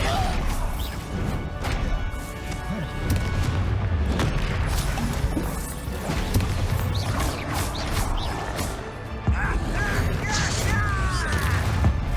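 Bombarda blasting spell in Hogwarts Legacy: heavy crashing explosions and booms follow one another in quick succession, loud and dense with debris clatter and whooshes, and no talk over them.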